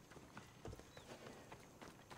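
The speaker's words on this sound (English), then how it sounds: "Another abandoned horse." Hooves clip-clop at a steady walking pace from a horse in the video game Assassin's Creed Odyssey, faint and low in the mix over a soft background.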